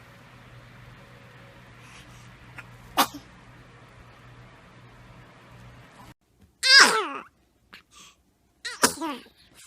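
A tiny, high-pitched sneeze from a baby, followed by a couple of soft squeaky sneezes and small breathy sounds in a quiet room.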